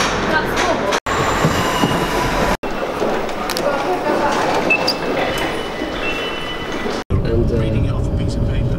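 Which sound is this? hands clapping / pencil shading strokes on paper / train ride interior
train ride interior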